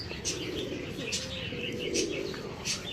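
Pigeons coo softly in a rooftop loft, low throaty calls repeating steadily at moderate distance, with faint chirps and a light flutter in the background.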